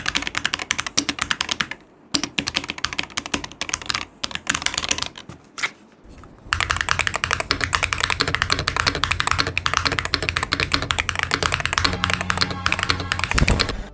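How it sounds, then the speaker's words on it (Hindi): Typing on an MCHOSE Ace 68 Turbo magnetic keyboard fitted with clacky Mount Tai GT switches, rapid close keystrokes in dense bursts with brief pauses, then a long continuous run of fast clacking. "I have the mount tie GT switches installed, जो थोड़े क्लैकी और लाइक इंसेनली फास्ट हैं।"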